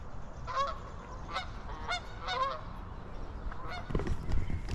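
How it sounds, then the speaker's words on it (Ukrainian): Several geese honk repeatedly overhead in flight, their calls coming in loose bursts against a faint background rumble, moderately distant, in Winnipeg, Canada. "Ось, до речі, знову гуси летять."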